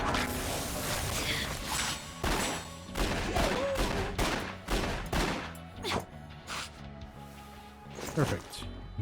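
Gunfire in the video game Silent Hill: Book of Memories comes as a string of loud, sharp shots at uneven intervals, mixed with game clatter and crashes throughout.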